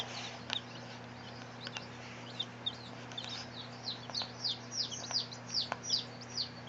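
Young chicks resting and feeding under a heat lamp bulb, peeping faintly in a steady run of short high chirps that grows busier toward the end, over a constant electrical hum.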